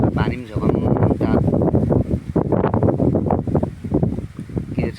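Strong gusty wind blowing outdoors after rain, roaring and buffeting the microphone loudly and continuously, with a voice talking over it.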